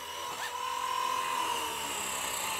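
A Blade 230S RC helicopter flies nearby, giving a continuous high whining rotor and motor drone with a steady pitch that shifts slightly as it moves.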